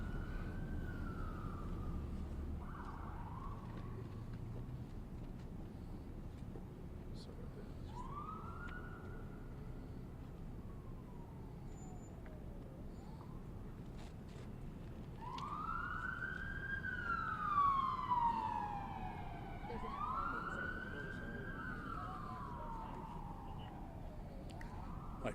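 Police siren wailing outside a Harford County high school during a large police response, rising and falling sweeps at moderate distance that grow louder and overlap with a second siren midway, over low steady background rumble.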